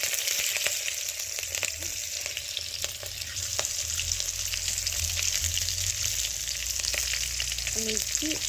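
Cumin, bay leaf and chilli fry in hot oil with a constant close sizzle and crackle, with now and then a faint clink of stirring.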